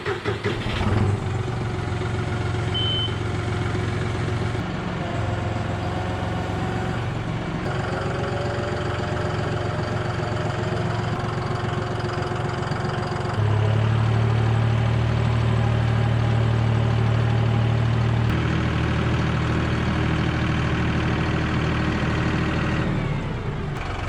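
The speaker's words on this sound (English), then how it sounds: "All right, tractor time. Let's get mowing this stuff," A steady tractor engine idles and rumbles throughout while mowing grass, with a deeper, louder low drone rising midway before settling back; no voices.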